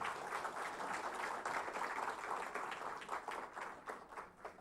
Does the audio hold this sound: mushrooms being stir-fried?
no